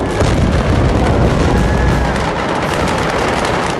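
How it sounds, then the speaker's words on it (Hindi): A loud, dense blast of noise sustained across the whole stretch, heavy and rumbling like an explosion with debris crashing as a hotel reception collapses in Beirut, no voices. "तभी जोरदार धमाका हुआ। इस धमाके के साथ होटल का रिसेप्शन भी मलबे में तब्दील हो जाता है।"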